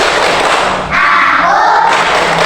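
A classroom group of students claps and chants together in a loud, close burst of rhythmic hand claps and unison voices, briefly dipping before resuming.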